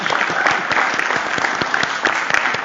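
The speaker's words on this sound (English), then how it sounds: "So a round of applause to everyone that showed up today" A room of attendees at a Black History Month talk on institutionalised racism breaks into applause, a full, dense burst of many hands clapping steadily and loudly for a few seconds.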